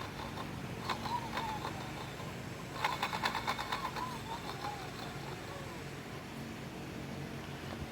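A Volkswagen Jetta engine running with a faulty water pump pulley: a steady low mechanical hum with bursts of rapid rhythmic ticking and clattering, fairly quiet and heard from close by.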